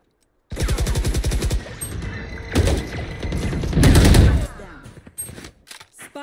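Rapid gunfire in a ranked Valorant match, loud bursts of automatic fire broken by short pauses, then a final flurry and scattered shots, with brief game sounds between bursts.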